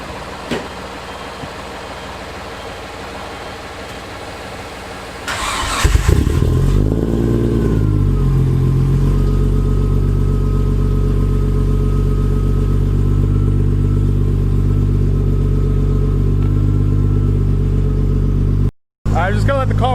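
A Nissan 240SX S14 with an RB25 engine cranks on a cold day and catches with a surge, then settles into a loud, rough, slightly wavering idle that drones on close by.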